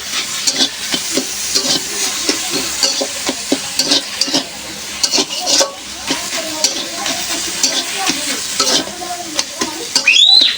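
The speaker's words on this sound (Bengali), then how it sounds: "এবার কচু শাকটা ভালো করে ঘুটে মেরে দেব" A spoon stirs and scrapes cooked taro leaves in a sizzling pan, with irregular, close scraping strokes over a steady hiss of frying.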